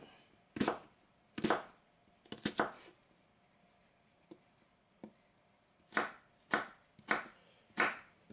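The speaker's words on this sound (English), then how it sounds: "As far as the onion, let's do this. Let's cut it in half. Cut it in a quarter." A knife chops an onion on a cutting board for soup. The cuts come as sharp, close, separate knocks, a few quick ones early and a steady run of about five near the end, with quiet pauses between them.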